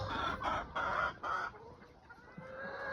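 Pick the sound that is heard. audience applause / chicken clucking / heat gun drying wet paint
chicken clucking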